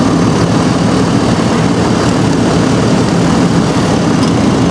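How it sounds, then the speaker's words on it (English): An air compressor runs under the hood of a 2013 Ford F truck with the engine going, making a loud, steady, close mechanical hum and whir that does not change for the whole stretch. "It sounds like the air compressor is running, so that's good news."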